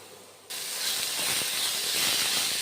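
Boiled bitter gourds drop into a hot wok and burst into a loud, steady frying sizzle that starts abruptly and holds a dense hiss to the end.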